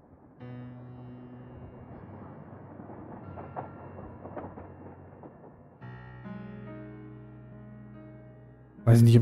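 Trains run in the Rail Route railway management game, giving a steady rumbling hum with layered tones. The sound shifts in character partway through and ends in a brief louder burst.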